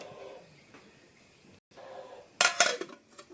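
A dosa griddle is set down on a kitchen stove, giving a sharp metallic clatter near the end after a quiet stretch of faint kitchen handling, with no voices.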